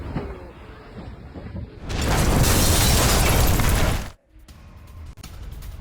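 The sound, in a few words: ammunition depot explosion after Ukrainian attack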